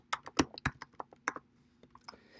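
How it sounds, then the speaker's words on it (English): Several quick keystrokes on a computer keyboard, near and fairly quiet, tapping in an irregular burst of about a dozen presses over two seconds, with no voices. "So I'm going to type in CO2."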